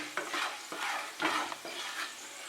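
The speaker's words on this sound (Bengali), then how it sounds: "গরম মশলাটা ফ্রাই করে নেব 10 থেকে 15 সেকেন্ড।" Whole garam masala spices frying in about four tablespoons of oil in a kadai, giving a bright hissing sizzle in a few surging bursts as they are stirred, close and without voices.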